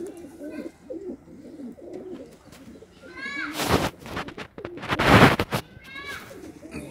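Pigeons coo in a village in Swabi, giving several soft rolling calls close by. Someone talks throughout, and there are bursts of wing flapping or handling noise.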